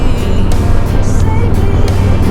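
Loud, close engine drone and rushing wind from a motorbike being ridden along a scenic road, steady throughout with a low rumbling roar.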